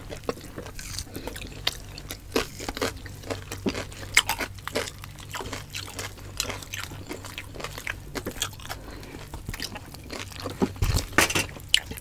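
Steady crisp crunching and biting into crispy roast suckling pig, close and loud, with repeated chewing bites throughout and no talking.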